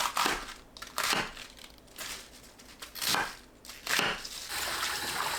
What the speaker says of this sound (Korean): 양배추는 심지 자르고 한 입 크기로 썰어주세요.